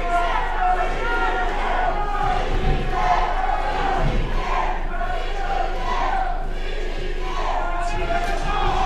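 Wrestling-match crowd roaring and cheering in a packed arena during a Big Fat Seb vs Mathis Myre bout, a dense, sustained wall of voices with swelling shouts, while a commentator talks over it.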